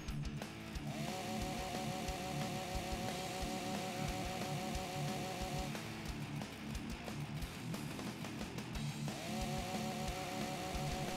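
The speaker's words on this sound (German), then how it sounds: "Ja, mit der Kettensäge ist ziemlich easy." A chainsaw revs in the zombie video game Walking Zombie 2, a loud, continuous buzzing whine with repeated rhythmic surges and brief dips, sustained throughout with clattering hits underneath.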